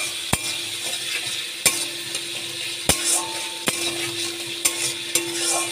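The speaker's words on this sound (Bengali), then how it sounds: "আদা দিয়ে আমি ভালো করে নেড়ে নিচ্ছি।" A spoon stirs vegetarian cabbage curry with crushed ginger in a hot pan, making sharp knocks about once a second over a steady, close sizzle, with no talking.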